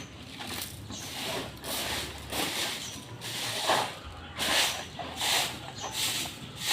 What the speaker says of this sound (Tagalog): Ating i-spray yan.